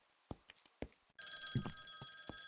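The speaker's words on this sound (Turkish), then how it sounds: "yine çalıyor bu telefon" Office telephone bell ringing loudly and close in a studio, a steady sustained ring starting partway through after a few faint knocks and rustles, with no talk.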